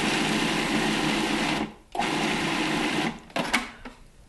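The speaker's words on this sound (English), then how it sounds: "to put the sauteed beef and pancetta into the food processor, and we're just going to pulse it a couple of times to mix it up." A food processor pulses sautéed beef and pancetta in three bursts: a steady loud whir, a brief stop, another run, then short choppy pulses at the end.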